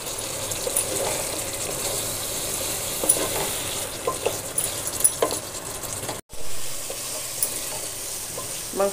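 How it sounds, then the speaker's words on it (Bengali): Meat stir-fried in oil in a pan for haleem sizzles loudly and close, with constant spatula stirring and scraping. A momentary cut interrupts the sound partway through. "মাংসটা ভালো করে কষানো হয়ে গেছে"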